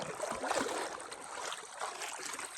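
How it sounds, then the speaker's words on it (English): Broad, steady rush of a big river flowing well but not raging, a continuous close wash of moving water with no talk. "It's a big river."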